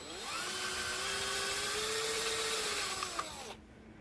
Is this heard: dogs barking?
no